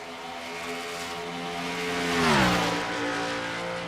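Race cars on a qualifying lap in a racing series roar past steadily, one engine note rising and then dropping in a clear pass-by near the middle, the sustained drone loud and without talk.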